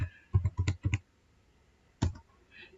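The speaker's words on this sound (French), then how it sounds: "pour activer ce mot de passe, on tape la commande login" Someone types a command on a computer keyboard, a quick burst of about five or six close key clicks, a pause, then a final keystroke and faint trailing clicks, in a quiet room.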